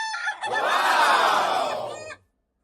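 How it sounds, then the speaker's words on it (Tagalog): A laughing chicken of the Ayam Ketawa breed lets out a long, drawn-out crowing call that rises and wavers like laughter before stopping abruptly, close and fairly loud. "Ngayon lang ako nakakita ng ganitong manok guys, na tumatawa sila lahat"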